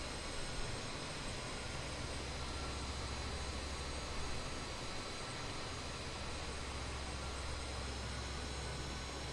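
A BAe 146 jet airliner in a flight simulator taxis out, a steady broadband engine roar with a faint high whine, continuous and even throughout.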